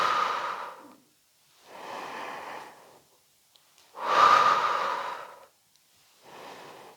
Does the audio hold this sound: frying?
no